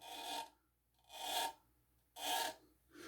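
A 3D-printed plastic pipe bowl is rubbed along its striated surface, giving three rasping strokes in a slow back-and-forth rhythm, close but quiet, with no speech.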